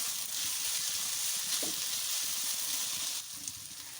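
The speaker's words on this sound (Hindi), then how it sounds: "बस हल्का सा ही इनको हम फ्राई करेंगे" Grated potato and cabbage fry lightly in a pan, giving a steady, close sizzle and hiss that runs for four seconds. A quiet stir is heard partway through.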